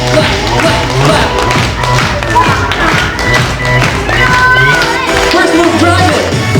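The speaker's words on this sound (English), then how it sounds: "Clap your hands. Clap, clap, clap, clap." A group of children clap their hands along to rhythmic music, a sharp and loud patter of taps and thuds repeating under the beat, with voices mixed in.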